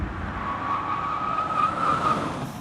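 A car brakes to a stop on a road in an Indian film scene, its engine droning steadily with a high tire-squeal whine running through the middle, fairly close and with no voices over it.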